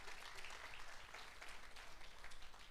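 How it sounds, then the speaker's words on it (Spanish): A congregation claps during a church service, producing a steady, fairly even round of applause that continues throughout. "Dele un aplauso a Cristo por su palabra"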